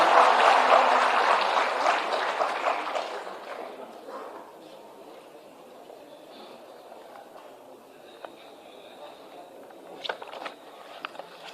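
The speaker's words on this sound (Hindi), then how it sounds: "जोरदार तालियों से स्वागत करें माननीय का।" A hall audience at a government ceremony in Patna applauds to welcome the energy minister. A loud burst of clapping fills the first three seconds, then thins to a quiet room with a few scattered knocks and clicks.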